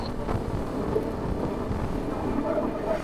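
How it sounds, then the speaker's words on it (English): Steady low rumbling wind buffets the microphone throughout while riding a Lectric XP4 750W electric bike outdoors, a constant roar with no voices. "It's windy out here."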